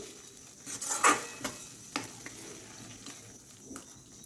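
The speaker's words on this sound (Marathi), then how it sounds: "आता हा खिमा आपण पाच ते सात मिनिट कमी गॅसवर मस्त असं शिजवून घेऊ" Mutton kheema masala cooks in a pan on low gas, a soft sizzle with a spoon stirring and scraping against the pan in a few close strokes.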